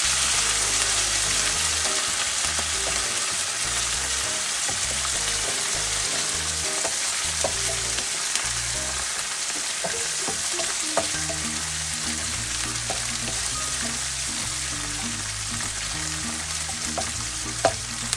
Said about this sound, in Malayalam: ഈ മുരിങ്ങയുടെ ഇല വാഷ് ചെയ്ത് വെള്ളമൊന്നും ഇല്ലാതെ അത് ഇട്ട് കൊടുത്തിട്ട് ഈ എണ്ണയിലിട്ട് അതൊന്ന് വറുത്തെടുക്കണം